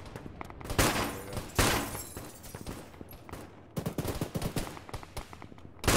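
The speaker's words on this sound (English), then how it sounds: "It's a GPMG." Bursts of GPMG machine-gun fire in the military shooter Arma, rapid clattering volleys in several separate strings, loud and close, with scattered shots between them.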